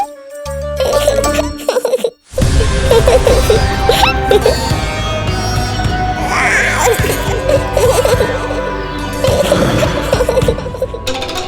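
A baby's sweet gurgling cry and coos rise over a loud, busy bed of music and other sounds in a devotional drama scene, heard close and continuing through most of the stretch.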